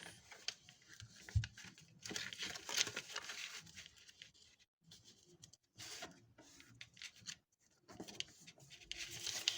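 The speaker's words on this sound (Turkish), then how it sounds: "bu kestiğimiz yerleri buraya doğru katlıyoruz" Paper sheets are cut and folded by hand to make a mini notebook, giving faint, close crinkling and rustling with brief sharp creases scattered throughout.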